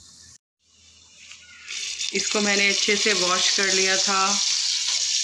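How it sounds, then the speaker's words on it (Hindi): Mutton pieces go into a pan of browned onions and a loud, rising sizzle builds and holds under someone speaking Hindi close by. "अब हम इसमें डालेंगे मटन।"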